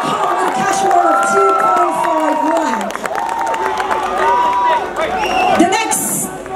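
A large crowd at the ShiRock 2022 rock competition results in India cheers and shouts continuously, with whoops and raised voices over a dense, loud roar of babble, and a burst of hiss near the end.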